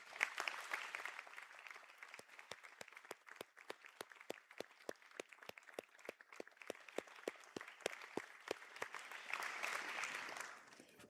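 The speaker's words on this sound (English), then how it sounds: "to stand if they're able to for a round of applause" Applause from an audience at a college conferring ceremony in Sligo, heard as distinct, fairly regular claps spread over several seconds, swelling into a denser patter toward the end, with faint room murmur.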